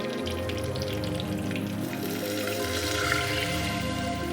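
Buttermilk curry with pumpkin simmering in a clay pot on the stove, spice powder just added, giving a steady close bubbling sizzle throughout, with no talking.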